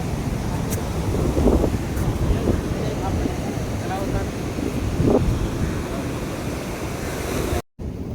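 Sea waves on Udupi beach wash in as a steady, loud surf roar mixed with wind buffeting the microphone, continuous throughout with a brief dropout near the end.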